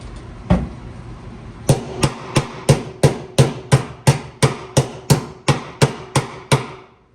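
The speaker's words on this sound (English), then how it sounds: "That's a hammer." A hammer strikes repeatedly in a drag racing garage, about fifteen sharp, loud, evenly spaced blows after a single opening hit, with no talk.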